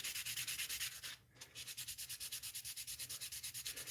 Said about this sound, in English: I want to scuff this up in case there's primer on here.